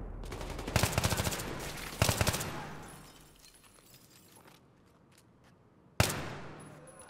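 Gunfire in Battlefield 3 on a high difficulty setting: two sharp, close bursts of rapid shots about a second apart, a fading rumble, then another sudden loud blast.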